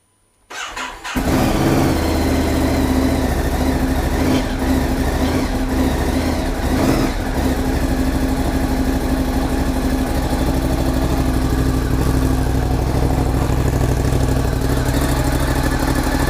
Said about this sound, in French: je vais vous faire démarrer cette moto pour être sûr qu'elle fonctionne encore